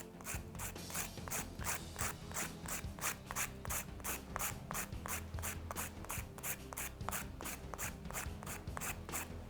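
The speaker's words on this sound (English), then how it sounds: "with your 100 grit file, you want to take off all the shine" A 100 grit nail file rasps the shine off gel nails in fast, even back-and-forth strokes, a close, steady, quiet scratching with no voices.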